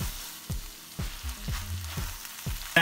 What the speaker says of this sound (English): add in your noodles. Give it a nice mix through.